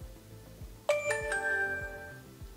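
A DJI Osmo Action 4 action camera gives a short electronic chime of a few bright, ringing tones that fade out, heard close over a faint steady background hum.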